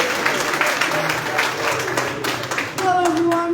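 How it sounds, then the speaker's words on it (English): Audience applause at a political gathering of the IPOB, steady clapping across the whole stretch with crowd noise, followed at the end by a voice speaking over it. "Can we give him a round of applause also?"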